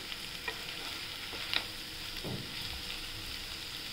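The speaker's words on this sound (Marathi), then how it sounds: "तर छान आपण त्याला परतून घेऊया 2 मिनटं" Diced potatoes for a fasting-day potato dish stir-fry in a pan, giving a steady close sizzle with scattered scraping stirs and light clinks throughout, and no voices.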